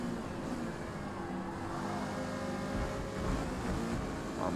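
Mazda MX-5 engine in C class racing at Silverstone in the Forza Motorsport video game, a steady continuous drone with slight rises in pitch, heard alone at even loudness.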